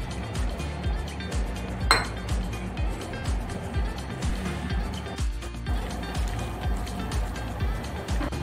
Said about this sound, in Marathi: आता आपण चांगलं मिक्स करून घेऊ